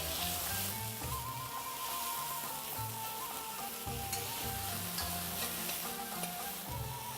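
Onion and two garlic cloves sautéing in a pan for Algerian couscous, a steady close sizzle and frying hiss with light stirring scrapes running throughout, no voices.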